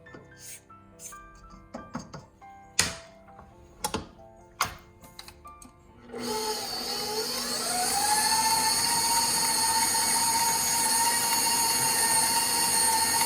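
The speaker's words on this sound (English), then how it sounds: "just let the KitchenAid do the work" A KitchenAid stand mixer kneads naan dough. A few sharp clatters come first, then the motor kicks in with a loud, steady whir that climbs slightly in pitch and runs on continuously.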